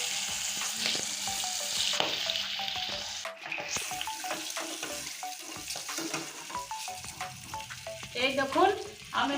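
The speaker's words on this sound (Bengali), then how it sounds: "মাছটা কত সুন্দর করে লাল লাল করে ভেজে নিয়েছি" American fish frying in hot oil in a pan, a steady crackling sizzle throughout with clinks and stirring scrapes from turning the fish; no one talks.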